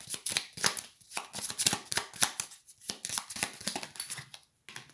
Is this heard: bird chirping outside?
no